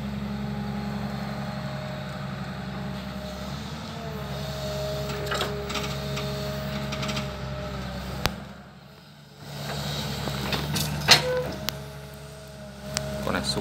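A Komatsu PC210 excavator works nearby loading sand onto a Howo truck, a fairly quiet steady diesel hum with hydraulic whines, occasional clanks and knocks, and a brief lull midway, with a voice speaking over it.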